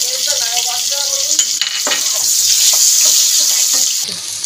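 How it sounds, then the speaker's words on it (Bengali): Potato pieces fry with salt and turmeric in hot oil, giving a loud continuous sizzle broken by scraping stirs of a spatula against the pan. "আলুটাকে লাল লাল করে একটু ভেজে নেব"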